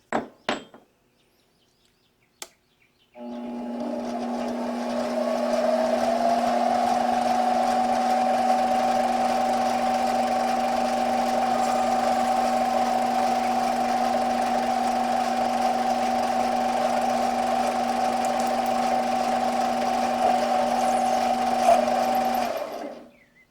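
A lathe runs steadily for about twenty seconds while parting off a piece of metal stock, giving a loud, sustained hum and whine after a few sharp clicks at the start.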